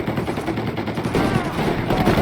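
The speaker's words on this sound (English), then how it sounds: "You're taking fire!" Gunfire in the gangster game Mafia Definitive Edition crackles in a steady, dense stream of rapid shots, like a machine gun, continuing throughout at moderate loudness.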